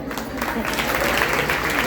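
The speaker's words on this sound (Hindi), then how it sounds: "अपने लिए तालियां बजा।" An audience at a Hindi family satsang and Veda katha gathering claps steadily, a dense wash of applause that holds at an even level for the whole stretch.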